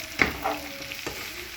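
Tomatoes with coarse rock salt sautéing in a pan for a squid curry, giving a steady soft sizzle with a couple of quick stirring scrapes, close and alone.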